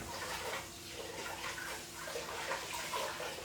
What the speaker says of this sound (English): So I am rinsing my rice.